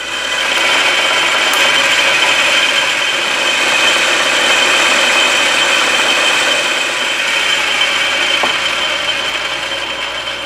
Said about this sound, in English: I'm turning down the end of this threaded rod